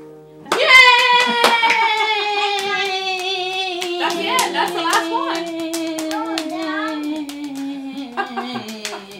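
Scattered hand claps from a small group at a home piano performance, sharp and intermittent over a long, slowly fading piano chord, with brief voices in the background.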